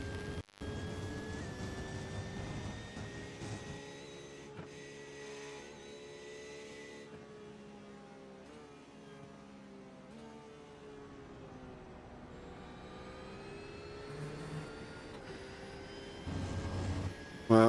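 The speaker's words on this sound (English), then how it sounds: "that high-pitched whistle of that Porsche in 6th gear." A Porsche GT3 race car engine in a racing video game drones at high revs in sixth gear, with a thin, sustained high-pitched whistle riding over it, shifting slightly in pitch, fairly quiet and continuous.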